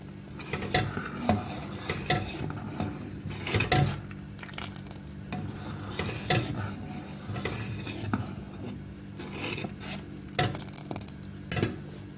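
A spoon stirs a freshly poured sauce into yayla soup in a pot, giving repeated close scraping and clinking strokes against the pot with a soft simmering hiss underneath.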